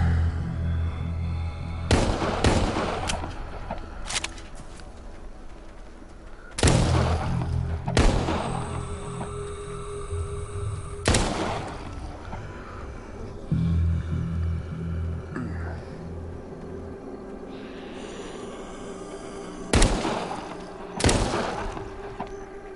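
Gunfire in the VR zombie shooter Arizona Sunshine, an Uzi in play: loud, sharp bursts spaced several seconds apart over a low game-ambience hum, with no talking.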